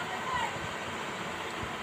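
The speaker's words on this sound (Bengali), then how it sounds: "দেখেন কি জোরে জোরে নদী ঢেউ" River waves heard from a ferry launch crossing between Paturia and Daulatdia, a soft, even rushing wash of water that stays faint and continuous for a couple of seconds.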